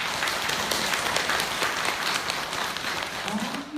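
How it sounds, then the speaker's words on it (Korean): An audience claps at a Buddhist dharma talk in Seongjusa temple, Changwon, producing a dense, sustained round of applause that fills the whole stretch, with a voice speaking beneath it. "부처님께 박수 한번 주세요."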